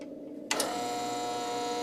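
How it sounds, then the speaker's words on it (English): A bevel edger starts up to custom cut an eyeglass lens for a chosen frame, a sudden mechanical onset followed by a steady close whirring hum with a tonal whine. "Jim uses a bevel edger to custom cut the lens to the specific frames the customer has chosen."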